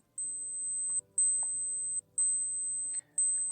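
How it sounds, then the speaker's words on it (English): A thin, high-pitched electronic alarm from an Orient wristwatch beeps in quick bursts of four or five, repeating about once a second, with faint room noise underneath. "So our alarm has started ringing."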